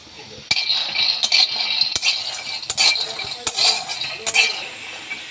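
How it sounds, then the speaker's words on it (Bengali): Raw peanuts dry-roasting in a dry wok: a metal spatula scrapes and clinks against the pan in repeated sharp strokes, with a faint rustle of nuts between them, close and fairly loud. "তার আগে আমি একটু কাঁচা বাদাম ভেজে নেব শুকনো কড়াইতে।"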